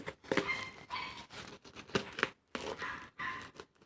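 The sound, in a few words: unboxing a knife from its packaging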